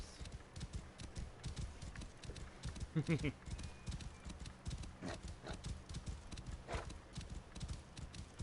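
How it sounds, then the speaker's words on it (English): A horse named Fiery clip-clopping with steady close hoof beats and a brief whinny, with a person's voice occasionally speaking over it. "And this is my horse."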